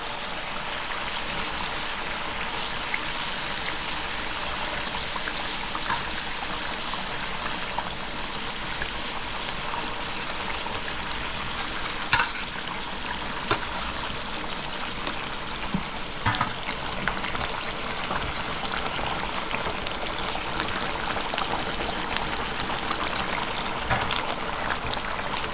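Pangas fish pieces added to a boiling tel jhal gravy, giving a steady, close, hissing bubble and simmer that runs throughout with a few faint clinks and no voices.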